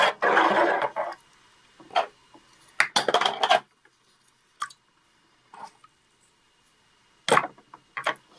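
A liquid is stirred in a water container, with short bursts of clinking and swishing separated by quiet gaps, close and fairly crisp.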